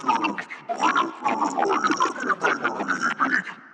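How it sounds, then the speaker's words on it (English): Copied stereo vocal track processed with a gurgling, bubbly toilet-style effect, a continuous warbling voice-like sound throughout at steady moderate level. "And the toilet effect sounds like this."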